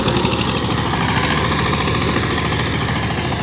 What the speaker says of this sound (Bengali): পাওয়ার টিলার দিয়ে জমি চাষ করা হচ্ছে।